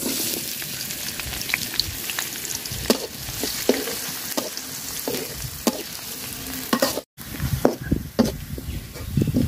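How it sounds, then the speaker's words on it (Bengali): Onions frying in oil with garam masala give a close, continuous sizzle and crackle, with repeated spatula scrapes and stirring knocks and a short silent gap near the end. "তো পেঁয়াজটা আমি লাল লাল করে ভাজা নিচ্ছি।"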